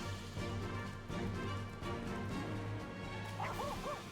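A dog mount in the Final Fantasy XIV video game barks repeatedly in a steady rhythm of moderate barks, with a few faint high chirps near the end.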